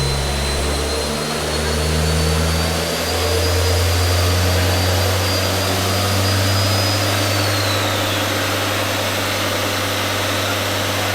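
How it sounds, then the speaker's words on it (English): Turbocharged 1.8T engine in an Audi TT, fitted with a Gadget G25 660 turbo, running steadily on a dyno, a loud sustained drone with a whining high tone and a deep low hum, with no talk over it. "Audi TT on the dyno. It's got the turbo I want in it."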